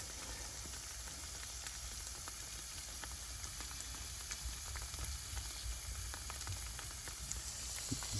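Hot water sprays from a small hole in a copper pipe cap, a steady broadband hiss and crackle like sizzling, continuous and close with faint drips throughout.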